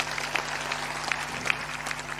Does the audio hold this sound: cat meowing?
no